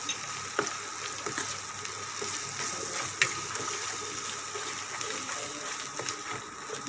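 Chilli powder and garam masala frying on a low flame for a brinjal and vadiyalu curry, making a steady, moderate sizzle with light stirring scrapes and occasional sharp ticks, and no one talking.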